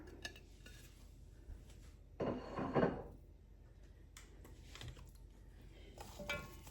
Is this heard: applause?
no